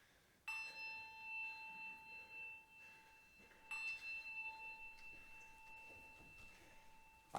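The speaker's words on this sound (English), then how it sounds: "The bell invites me." A single bell rings twice during a stage performance of Macbeth, each clear metallic strike ringing out and decaying slowly, quiet and slightly distant against a soft room background.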